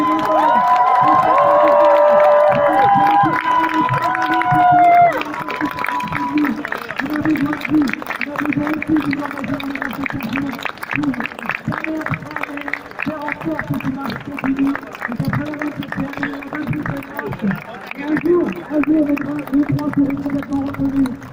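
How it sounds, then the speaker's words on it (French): A crowd at a street rally claps and cheers for the organizers, starting with loud shouting and whoops, then settling into dense, rhythmic applause that continues steadily throughout, with voices mixed in. "On applaudit ces personnes qui ont aidé à l'organisation"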